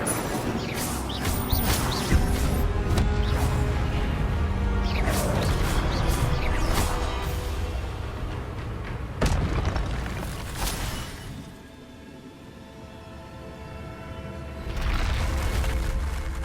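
Incendio fire spell cast in the video game Hogwarts Legacy, a dense roaring whoosh of flame with bursts and crackling impacts layered over game ambience, dipping briefly before swelling again.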